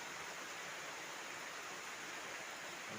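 Rain falls steadily during a micro fishing outing, a dense, even hiss of drops with no breaks and no voices, fairly faint.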